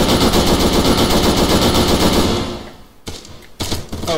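Airsoft gunfire in a game, a loud close burst of rapid automatic fire that runs for about two seconds, fades, then gives way to a few sharp single shots.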